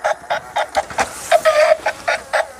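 A battery-powered toy egg-laying hen clucks in short, evenly spaced bursts, a mechanical run of about a dozen squawky clucks close up with no talking.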